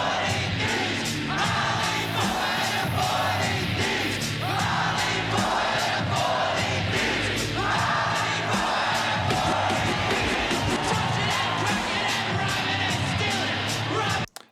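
A large crowd at a concert roars and cheers continuously at close range, with yells and whoops rising above a dense wall of noise that cuts off abruptly at the end.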